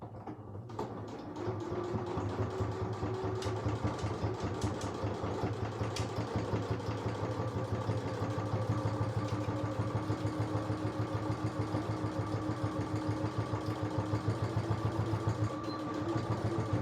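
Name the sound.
sewing machine stitching a seam on a coin purse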